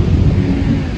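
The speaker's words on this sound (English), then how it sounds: "Now we've got lightning and thunder." Deep rolling thunder rumbles loudly and continuously through a heavy downpour of rain during a stormy hurricane-season day, close and filling the whole moment with no talking.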